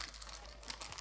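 Indomie instant noodle seasoning packets are torn open with quick, close crinkling and rustling of plastic film, a brief busy burst of crackles without talk.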